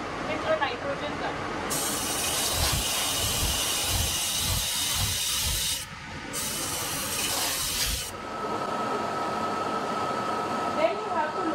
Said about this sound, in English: Then you have to blow the mask plate with a nitrogen gun.